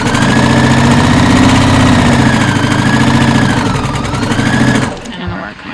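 Sewing machine running steadily while stay stitching along a garment armhole, a loud continuous motor whir with rapid needle rhythm for about five seconds before stopping abruptly.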